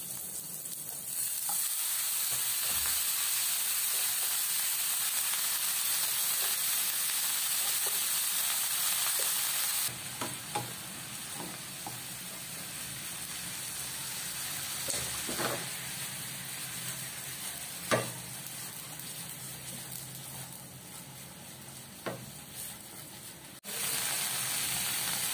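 Chinese kale (kailan) is stir-fried with garlic and salted fish in a wok, making a continuous crackling sizzle broken by intermittent scrapes and clacks of the spatula. The frying quiets partway through, then grows louder again near the end.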